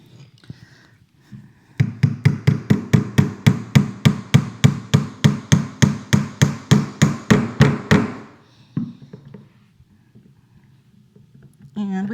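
Rapid, evenly spaced hammer taps drive a pin into a Yeti Tundra cooler latch, about two dozen sharp knocks in a steady run, with a voice talking briefly before and after.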